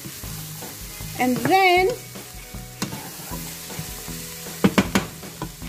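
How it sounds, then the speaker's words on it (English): Vegetables being stir fried in a pan for a roasted pork rib soup, with scraping and sizzle recurring in bursts, a short spoken phrase over it and some clattering taps near the end. "So just do a quick stir fry with the veggies."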